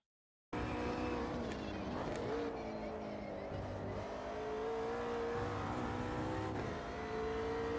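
A race car engine in the Automobilista 2 racing game screams steadily at high revs with shifting pitch, loud and continuous, with faint tire noise and a voice talking over it.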